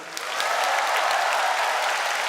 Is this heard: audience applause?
yes